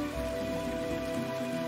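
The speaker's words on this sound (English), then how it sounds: "And then they flipped it and the rain's going sideways?" Steady rain falls in the fantasy dungeon-crawler game Operencia: The Stolen Sun, a continuous hiss of drops on surfaces layered over a low, constant game ambience with no talking.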